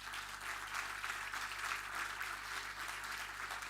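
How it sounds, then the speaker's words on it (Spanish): An audience at a book presentation in Chile gives sustained applause, a dense, even wash of clapping that sounds fairly distant and soft, continuing without pause under a faint low hum. "Un aplauso para ella."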